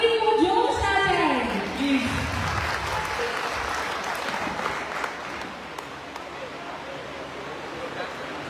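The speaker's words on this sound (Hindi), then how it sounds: "तालियां इस तरह बजाएं कि खुशी और मानवी को जोश आ जाए" An audience claps at the cultural program of Brahmarshi Seva Samaj's 26th annual ceremony. A voice over a loudspeaker opens the clip, then a sustained, dense round of applause follows and slowly tapers off.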